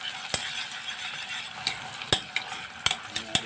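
Chopped onion browns in hot oil in a pan with garlic, a base for kofta over spaghetti, giving a steady close sizzle broken by several sharp clicks of a spoon against the pan.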